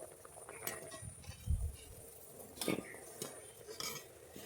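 A metal utensil lifts boiled hog plums (amra) out of a pan, with soft scrapes and light clinks against the metal at irregular moments, close and quiet.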